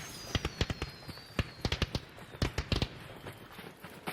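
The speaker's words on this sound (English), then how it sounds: "threw a lure grenade and then set off the fireworks" Fireworks going off in the video game Arc Raiders after a lure grenade, a rapid irregular string of sharp cracks and pops with faint whistling trails, moderately loud against a steady background hiss.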